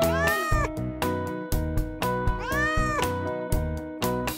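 A cat meows twice, long rising-and-falling cries, over a bouncy musical backing with regular beats.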